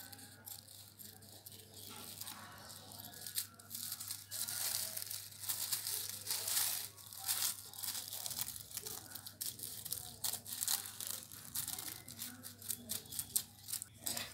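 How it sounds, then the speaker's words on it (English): Scissors cut plastic into two halves, giving close crinkling, crackling snips and rustles in irregular bursts over a faint low hum. "first we need to cut the plastic into two halves"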